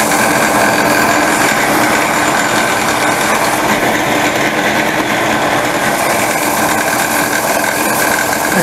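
A power tool rounds the ends of wooden back rails for a Franklin library ladder chair, a steady, loud, high-pitched whine and buzz running without pause, with no talking.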